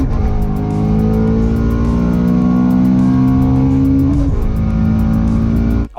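A 500 wheel horsepower Dodge Charger SRT8 muscle car with full bolt-ons, racing: a loud, sustained engine roar climbing steadily in pitch under hard acceleration, then dropping sharply near the end as it shifts or lets off.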